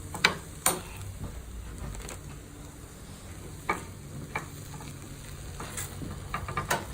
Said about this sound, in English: Our noodles are heating up.